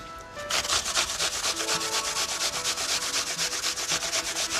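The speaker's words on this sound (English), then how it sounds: "Grate 2 apples." Two apples grated for a light caramel make a steady, rhythmic rasping, quick even strokes close by with no talking.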